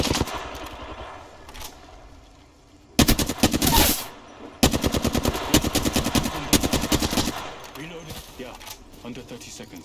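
Gunfire in the Apex Legends battle-royale game: rapid automatic bursts rattle out loud and close in two long strings after a quieter stretch, and a voice talks faintly underneath.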